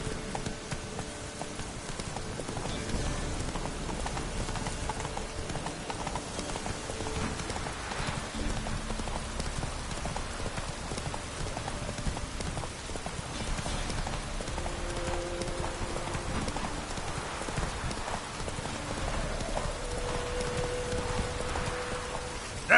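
Roach gallops in The Witcher 3 with a muffled, continuous patter of hooves under steady rain and soft musical tones, no voices heard.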